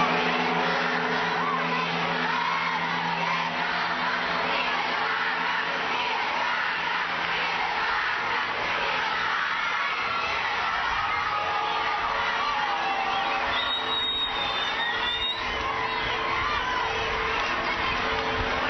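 A dense crowd outside a palace greets Pope Benedict XVI with continuous cheering and shouting, including children's voices, loud and sustained throughout with a brief high whistle near the end.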